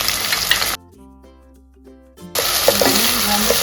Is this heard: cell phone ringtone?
no